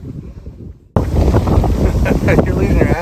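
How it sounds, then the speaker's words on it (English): Wind gusting across a microphone outdoors at a quiet nature preserve in The Villages, Florida, starting abruptly after a near-silent second and then roaring steadily and loud, with rumbling buffeting throughout. "That's getting windy."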